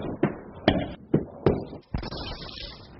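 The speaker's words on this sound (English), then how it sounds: "Every time the wheel slams into the car, it's going about 50 miles an hour." A loose truck wheel slams repeatedly into a car during a crash test at about 50 miles an hour, giving four sharp, heavy thuds roughly half a second apart, then a final impact followed by a trailing rattle.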